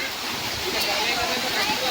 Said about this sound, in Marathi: बघा अशा पद्धतीनं आता हे पाणी चालू इथं.